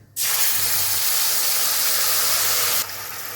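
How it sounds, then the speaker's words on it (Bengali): Spice paste dropped into hot oil with a dried red chilli and bay leaf, bursting into a loud, close, steady sizzle that starts abruptly and holds for about three seconds before easing slightly. "আর এবার আমি যে মশলাগুলো আমি করে রেখেছিলাম সেই মশলার পেস্টটা আমি দিচ্ছি।"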